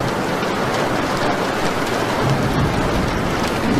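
Steady, dense rain pours during a thunderstorm over a farm in the video game Piggy, a continuous hiss with low rumbling underneath and no voices.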